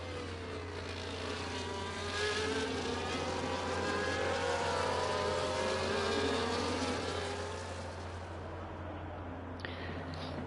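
Race cars in a racing video game run a lap behind the safety car at the Austrian round, a steady blended engine drone with a constant low hum, continuous and fairly loud, with no talk.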